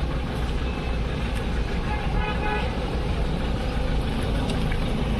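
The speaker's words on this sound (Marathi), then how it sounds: "मित्रांनो गाडी चाललेली आहे आता तिकडे." A road vehicle drives along after rain, with a constant loud engine and road rumble and a horn tooting briefly.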